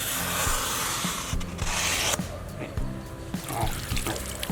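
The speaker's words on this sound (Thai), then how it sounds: "ฉีดน้ำเติมน้ำทำเหมือนเดิม" Water sprays and pours into a foam worm-rearing box being rinsed clean, a steady close rushing and splashing with rubbing and scraping sounds over it.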